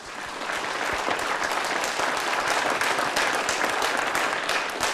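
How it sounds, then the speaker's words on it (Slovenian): Continuous, even applause from a studio audience at a rural folk-music television show in Slovenia's Lower Savinja Valley, a dense wash of clapping with no talk. "en aplavz še za Moniko"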